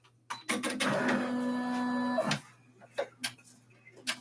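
An embroidery machine stitching the placement outline for a bag, a loud steady whirring run of about two seconds framed by mechanical clicks and knocks before and after.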